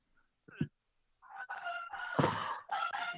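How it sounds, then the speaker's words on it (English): Pet parrots call loudly indoors: a brief squawk, a pause, then a long raucous burst of harsh, crowing-like cries close to the microphone. "my parrots get really loud"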